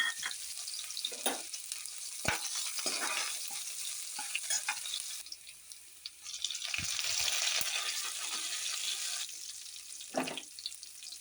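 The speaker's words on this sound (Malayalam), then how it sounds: "നമ്മുടെ വെളുത്തുള്ളി ഇഞ്ചി അരിഞ്ഞിട്ടിടും." Chopped garlic and ginger sizzle steadily in a hot pan, a broad close hiss that swells louder midway, broken by a few sharp clinks and scrapes, with a brief running-water sound near the end.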